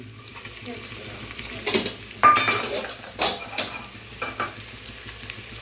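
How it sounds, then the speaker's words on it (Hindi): Garlic tossed into a hot pan for a rustic village-style handi chicken, with a soft sizzle beneath several distinct clanks and scrapes of a metal spoon stirring against the vessel, close up. "इसमें हम डालेंगे लहसुन"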